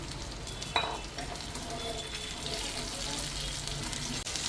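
Achinga payar, cut long beans, being stir-fried in a pan, a soft continuous sizzle with a brief sharp clink of utensil on metal early on and occasional light scraping.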